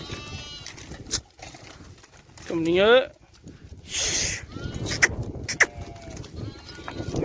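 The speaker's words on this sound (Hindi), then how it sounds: "ये हमारे भेड़े और बकरियां हैं।" Sheep and goats bleat loudly in a Saudi village, with a few close calls breaking through ongoing talk.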